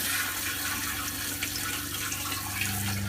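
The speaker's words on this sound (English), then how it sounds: "I'll just flush it." A Thetford RV toilet flushes with a steady, fairly loud rush of running water that continues unbroken from start to end, with no voices.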